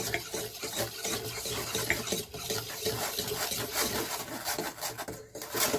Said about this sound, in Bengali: এই যে দুধ, চিনি আর তেল দিয়ে রেখেছিলাম, এটাকে আমরা মিক্স করব